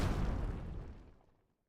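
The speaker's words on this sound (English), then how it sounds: "Explosion." A single explosion in the video game Arknights bursts loudly at the start, then its rumbling debris and dust decay steadily into silence within about a second and a half.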